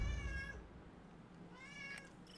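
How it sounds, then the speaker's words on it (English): A house cat meows twice, close and fairly quiet, with a short pause between the two calls, heard in a quiet indoor room. "That's my cat."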